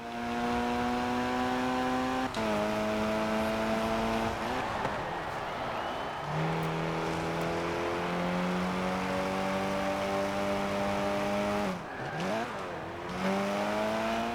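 A racing game car engine labours up a hill in 4th gear, its steady droning hum rising slowly in pitch with a few brief dips and shifts, loud and continuous throughout.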